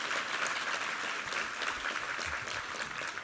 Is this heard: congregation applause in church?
yes